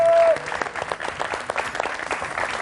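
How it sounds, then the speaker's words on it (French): Studio audience applauding loudly on an Algerian TV talk show, a dense steady wash of clapping running throughout, with a brief tone at the start. "On applaudit très très fort aussi Moxaye"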